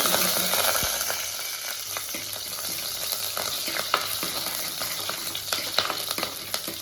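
Chopped green chili sizzles in hot coconut oil with mustard seeds and a pinch of fenugreek for a Kerala fish curry, a steady close crackle broken by sharp pops and a few stirring scrapes, with no voices.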